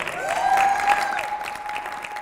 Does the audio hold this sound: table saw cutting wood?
no